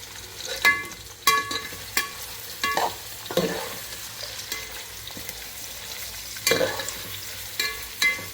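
Two sliced onions fry in a pan for biryani, a soft continuous sizzle punctuated by a series of crisp spatula knocks and scrapes, with no talking.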